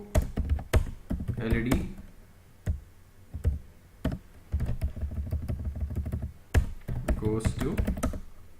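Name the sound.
typing code on a computer keyboard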